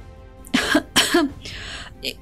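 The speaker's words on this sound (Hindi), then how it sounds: "उसने झूठ मूठ की खांसी करते हुए उसे टोका" A voice gives a few deliberate, exaggerated coughs and throat-clears, close and distinct, with short pauses between them.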